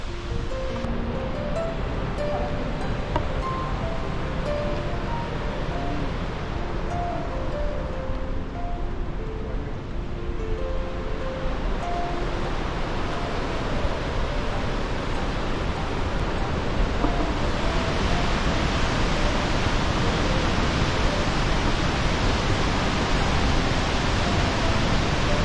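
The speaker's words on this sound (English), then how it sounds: "There you have the river coming down." River water rushes steadily down toward the falls in Yellowstone National Park, a loud continuous roar with no break, heard close and without any voices.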